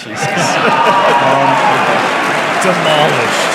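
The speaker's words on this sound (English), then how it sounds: "Awkward applause." An audience breaks into sustained applause, a broad continuous wash of clapping that stays fairly loud and even throughout, with voices audible faintly underneath.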